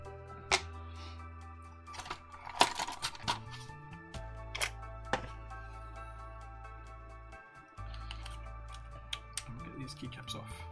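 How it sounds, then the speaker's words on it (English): Keycaps pulled off a numpad prototype and dropped into a small plastic tub, a series of sharp clicks and light clattering drops at irregular intervals over a low steady hum. "Get these keycaps off."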